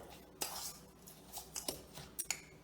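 A utensil chopping and breaking up chunks of brown sugar in a bowl, several sharp clinks and scrapes at irregular intervals, close and fairly quiet.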